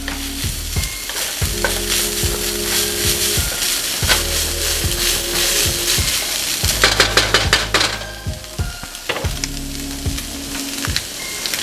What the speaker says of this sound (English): go ahead and re-add your strained ground beef. Mix this all in together.